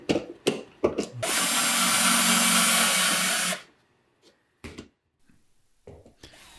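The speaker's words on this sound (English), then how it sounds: "The lift mechanism works well now with the drill for power" A power drill spins the lead screw of a homemade router lift in one steady, loud whine lasting about two seconds. Short clicks and knocks come before it, and faint handling sounds follow.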